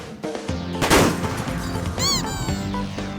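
Intergalactic missiles launched in the iPhone game Smashing Planets, a short burst of sharp firing sounds over a steady electronic game tone, followed by a rising whistling sweep.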